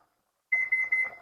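A kitchen timer goes off while pasta cooks, giving a bright, close electronic alarm in three quick repeated bursts after a moment of silence.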